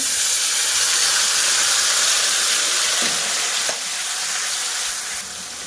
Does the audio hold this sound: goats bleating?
no